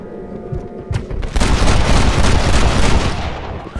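Dense, loud gunfire from a Western video game set on a ranch with cattle rustlers, a rapid barrage of overlapping shots that bursts in abruptly and continues without pause.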